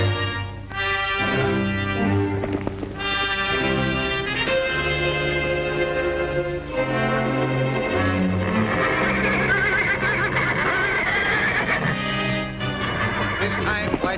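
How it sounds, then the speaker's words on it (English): Horses neigh and whinny loudly and repeatedly, shrill squealing calls overlapping one another for a long stretch as a white horse and a black stallion fight, in a 1938 film. "This time, Whitey decided to have it out with the black horse, once and for all."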